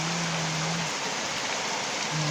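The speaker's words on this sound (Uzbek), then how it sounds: "Mana shunaqa bizda chiroyli yomg'ir quyayapti, mazza." Heavy rain pours down steadily as a dense, even hiss with no letup, close and continuous throughout, with a faint low hum at the start and end.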